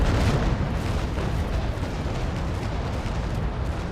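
Heavy, continuous rumbling roar of warship cannon broadside fire in the naval sailing game Naval Action, Trincomalee against Essex and Surprise, loud and dense throughout with rolling booms blending into one another, no talking.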